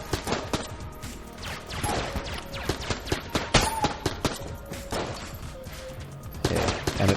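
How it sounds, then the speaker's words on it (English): Gunfire from a basic gun in the video game Enter the Gungeon, a dense run of rapid, loud shots with brief clattering breaks that fit a reload. "This basic gun isn't terrible, but the worst part about it is that it takes so very long to reload."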